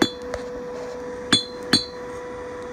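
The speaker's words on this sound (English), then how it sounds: "he got his first hammer built, and he's already trying it out" A handmade blacksmith hammer strikes metal while forging, a few sharp ringing clinks spaced irregularly over a faint steady hum, close with no voices.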